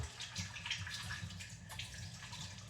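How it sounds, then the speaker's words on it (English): Hands being rinsed under a running tap while making halal meatloaf, a steady close stream of water splashing with faint drips and shifting flow. "we're going to go ahead and rinse our hands real quick"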